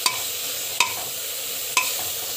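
Chopped ridge gourd sautés in a pan with a soft steady sizzle, broken by three sharp scrapes of a spatula stirring against the metal at roughly one-second intervals, and no voices.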